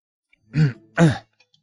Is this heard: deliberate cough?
yes